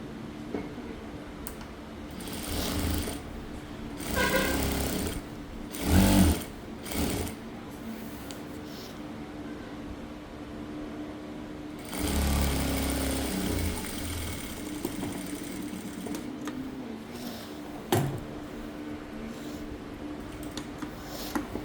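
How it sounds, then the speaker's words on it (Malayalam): Domestic sewing machine stitching the crotch seam of churidar pants, running in several short bursts with pauses between, fairly close and moderately loud, with no talking over it. "ആദ്യം ഒരു ക്രോച്ച് ഏരിയയിലാണ് സ്റ്റിച്ച് സീറ്റ് ലെങ്ത്ത് അവിടെയാണ് സ്റ്റിച്ചിങ് തുടങ്ങുന്നത്"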